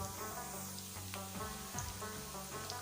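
Garlic, cumin seeds and black pepper sizzle in hot oil in a pan while cooking aloo palak, a steady close crackle with occasional sharper pops and no talk.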